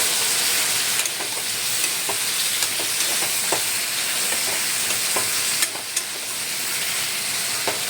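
Food is stirred in a hot frying pan after a pinch of sugar and salt are added, with a steady sizzle and hiss throughout and a few soft clicks of the spatula against the pan.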